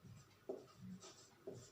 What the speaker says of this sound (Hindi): तो लिखते हैं महावीर स्वामी।